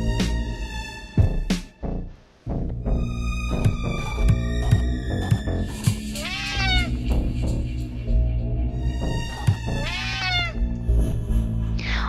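Cat in the video game Friday the 13th Killer Puzzle lets out two long, wavering meows several seconds apart, over busy game music with thumps and a steady low hum.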